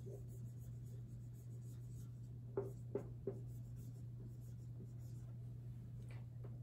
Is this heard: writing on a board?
yes